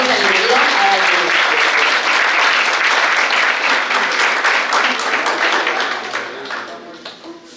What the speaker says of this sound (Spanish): fuerte aplauso y le damos la bienvenida a Arturo.